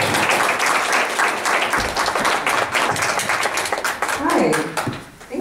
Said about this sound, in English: So give a round of applause for Ilana.